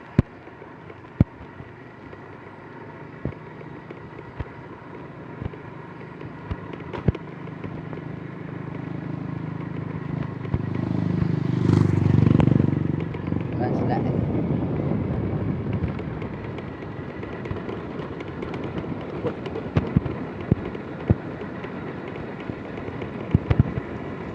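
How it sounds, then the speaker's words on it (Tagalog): A motorcycle engine is started and revs up for a few seconds midway through, loud and close, then settles into a rougher idle among outdoor pops and clatter. "Lagi paandar ang motor kay alah gasolina."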